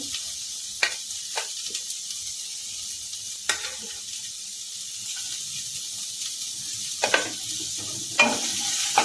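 Finely chopped carrot and other firm vegetables for a vegetable soup are stirred in a pan, giving a soft, constant hiss with intermittent sharp scrapes and taps of the spoon against the metal.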